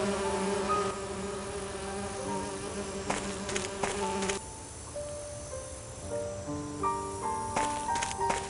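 Bees buzzing around an orchard hive in the video game And Then There Were None, a steady, close insect drone layered with sustained tones and a few sharp clicks.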